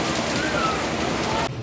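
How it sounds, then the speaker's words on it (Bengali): Steady, heavy rain pours down close by as a dense, even hiss. A faint bird whistle can be heard through it. "যাই না কখন বৃষ্টি বন্ধ হবে"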